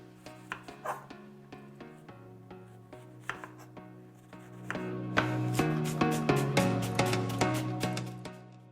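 A knife chops half a yellow onion on a board, first in spaced single taps, then in faster, denser strokes over a low steady background hum.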